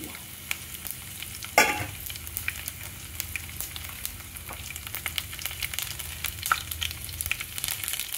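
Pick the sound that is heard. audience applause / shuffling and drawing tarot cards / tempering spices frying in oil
tempering spices frying in oil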